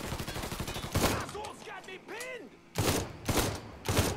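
Gunfire in the Mafia 3 video game comes as rapid loud bursts of shots, broken by short pauses and whooshing tones, with someone talking over part of it.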